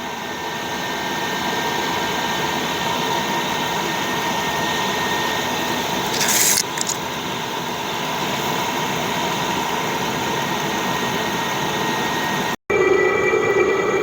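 Chinese 8kW diesel heater running loudly after its burner lights, a steady roaring rush like a small jet engine, close and continuous with a brief higher whine partway through and a short cut near the end.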